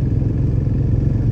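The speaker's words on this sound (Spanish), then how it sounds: "Semejante joya de motocicleta." BMW R90 motorcycle rides past with a steady, loud low engine drone and rhythmic pulsing exhaust throughout, close by and without talk.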